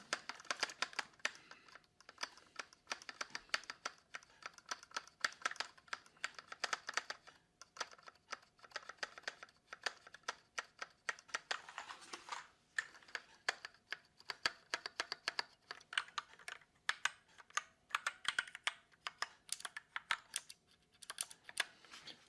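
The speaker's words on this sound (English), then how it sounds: "I changed one of the keys in this keyboard" Steady typing on a computer keyboard with a swapped key and a thick spacebar, a dense, continuous run of close, crisp key clacks with short pauses throughout.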